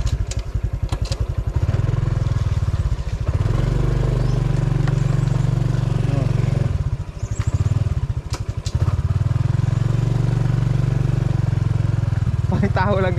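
A motorcycle engine runs loud and close with a low throbbing drone while crossing a narrow bridge, briefly easing off mid-ride, with clattering and wind rumble over it.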